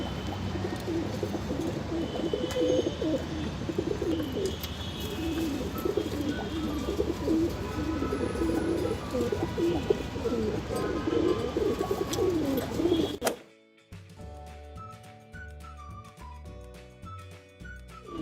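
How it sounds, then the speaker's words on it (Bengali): A female pigeon coos softly and repeatedly against a busy background, then the sound cuts abruptly to music near the end. "এটা হচ্ছে একটা মাদি কবুতর"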